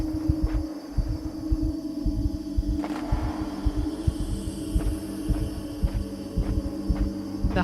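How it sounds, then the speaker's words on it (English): A heartbeat sound effect from the video game INSIDE thumps in a steady repeating rhythm of low throbs under a droning hum, with a few sharper hits scattered through. "The heartbeat and sound effect, Shield says, is setting him off."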